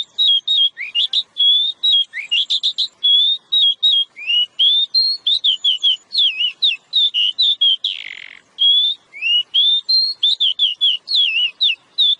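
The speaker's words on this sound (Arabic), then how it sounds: "سادسا. طائر العقعق الأسود." A black magpie sings a loud, continuous run of bright, warbling whistled phrases and chirps in quick succession, close and clear with only brief pauses.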